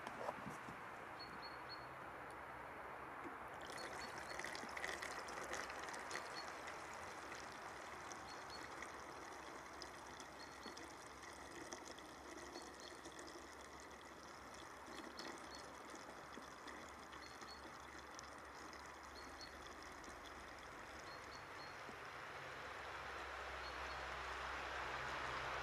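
Rainwater runs through a two-stage gravity filter, producing a faint, steady trickling and flowing hiss that continues throughout with no talk over it.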